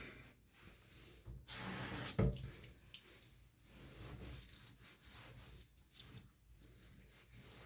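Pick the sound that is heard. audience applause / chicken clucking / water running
water running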